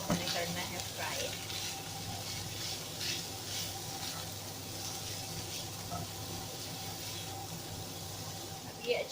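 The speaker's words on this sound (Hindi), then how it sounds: "काली मिर्च, नमक, और इन सबको हमें करना है फ्राई।" Chicken frying in a pan with black pepper and salt, a steady low sizzle running throughout with faint stirring scrapes and a slightly louder burst at the end.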